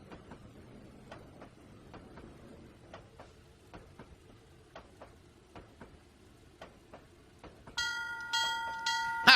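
Locomotive bell in the Trainz 2019 train simulator on the C&O Hinton route, a steady series of sharp metallic strikes repeating about every half second, growing loud and dense toward the end.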